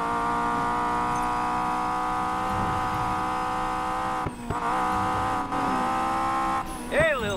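Race car engines in Need for Speed Payback hold a steady, loud droning rev throughout, with brief dips and a rising whine near the end, while background voices talk over it.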